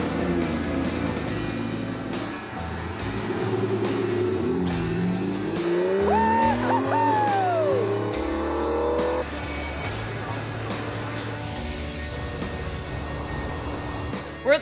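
An Aston Martin car drives with a steady engine note throughout, rising in pitch as it accelerates in the middle, with a brief squeal-like tone before settling back to a continuous drone.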